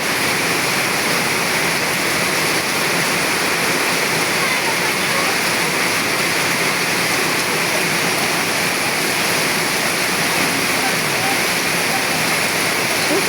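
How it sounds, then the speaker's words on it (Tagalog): Heavy rain pours down in a steady, loud, unbroken roar that fills the whole stretch, with no pauses or rises. "Grabe ang lakas ng ulan."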